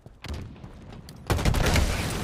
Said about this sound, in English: Whoa! I got grenaded.